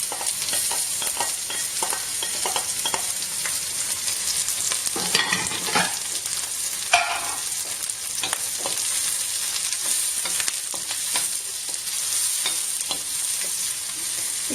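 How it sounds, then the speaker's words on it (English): Green, red and yellow bell peppers frying in a pan for chilli mogo, a continuous close sizzle with frequent stirring taps and scrapes, a louder burst of hiss midway, and no talking. "I'd say, for about 2 to 3 minutes till the peppers are slightly tender and soft."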